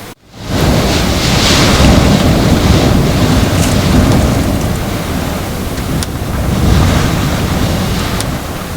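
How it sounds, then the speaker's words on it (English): Powerful wind roars steadily against the microphone, a loud sustained storm gust with rumbling buffeting and no voices, during an Arctic rainstorm. "Just keeping me awake with these new gusts coming"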